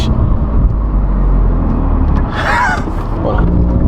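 Engine of a 2024 Hyundai Elantra N fitted with a new aftermarket intake and blow-off valve, a loud steady low rumble with a brief rising whoosh and whine midway, close to the car.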